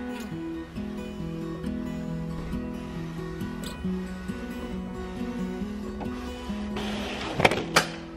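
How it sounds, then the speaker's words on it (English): Printer running an A3 photo print at home, a sustained mechanical whir with shifting motor tones and stepped feed changes, ending with a few clicks and a brief rustling burst as the sheet comes out. "Okay, so the printer is done"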